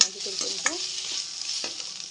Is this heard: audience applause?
no